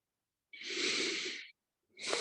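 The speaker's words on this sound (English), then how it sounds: "Take a few more breaths." One slow, deep breath is drawn during a shoulder stretch: a long, airy, close inhale lasting about a second, then a pause before the next breath begins.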